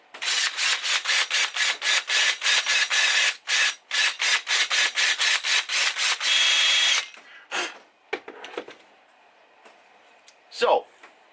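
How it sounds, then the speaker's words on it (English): An electric drill bores into a stripped Allen bolt head on an electric skateboard's motor mount, loud and close. It runs in rapid pulsing bursts for about seven seconds, then stops, followed by a few scraping and clicking sounds. "Next step, we're going to drill out the Allen head."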